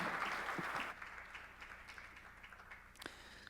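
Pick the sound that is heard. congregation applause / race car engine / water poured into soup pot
congregation applause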